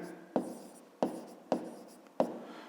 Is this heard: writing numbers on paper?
yes